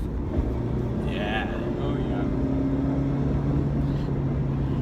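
Engine of a 2017 Mazda Miata MX5 Club Sport droning steadily in fourth gear from inside the cabin, a low continuous hum that shifts pitch slightly, with brief voices speaking over it.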